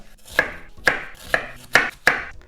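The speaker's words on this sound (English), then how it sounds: "And then with these, I'm gonna make slits like this." A knife cuts slits into a peeled onion on a cutting board, making five loud, evenly spaced chopping knocks up close.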